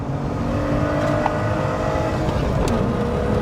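Engine of a 1986 BMW 325i E30 inline-six blipping through a heel-toe downshift, a steady close drone from inside the car with brief rises in revs.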